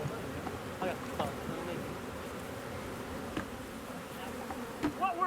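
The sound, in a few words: honey bees buzzing around beehives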